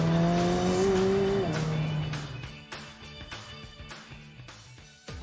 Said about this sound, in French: Ce qui est étonnant, c'est de pouvoir accélérer aussi fort et surtout s'arrêter aussi vite.